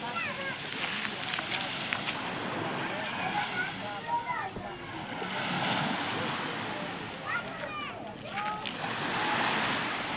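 Sea waves wash steadily onto the beach at Budva, with gusty wind on the microphone and people talking over the surf.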